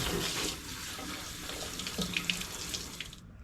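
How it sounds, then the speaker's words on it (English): Cold tap water runs steadily into a kitchen sink, rinsing boiled potatoes to cool them; a continuous close splashing hiss lasting the whole moment, with no talk over it. "I'm going to rinse the potatoes with cold water because I want them to cool down."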